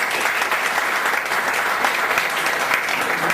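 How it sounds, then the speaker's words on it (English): A meeting audience bursts into loud, sustained applause, with many hands clapping densely and evenly and no voices over it. "I request you all to appreciate the same with loud applause"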